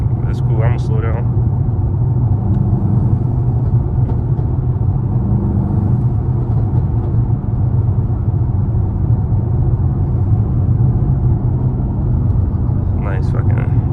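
A tuned Mercedes-AMG GT63s drives along a country road, its engine a steady, loud low rumble throughout with road noise, and brief bursts of higher sound near the start and end.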